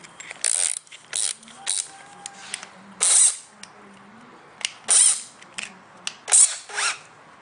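A power screwdriver spins up in repeated short whirring bursts on a workbench while a dowel or screw rod is being rigged, with pauses and faint clicks between runs.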